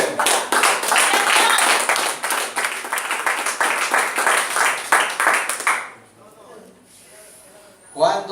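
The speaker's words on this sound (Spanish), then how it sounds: "Denle un aplauso al que vive." Congregation members in a church clap in a quick rhythmic pulse for several seconds, loud and close, before the clapping abruptly drops away to near quiet and a brief burst returns.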